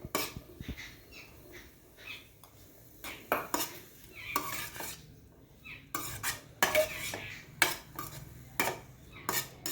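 Boiled corn kernels tipped into a pan of sautéed spinach, with close, repeated clattering and scraping of a spoon against the pan in short bursts, no voices.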